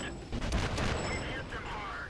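Tank cannon and small-caliber gunfire in the World of Tanks video game, dense overlapping shots and booms forming a continuous loud barrage, with a voice speaking over it.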